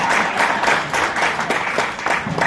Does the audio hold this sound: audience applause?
yes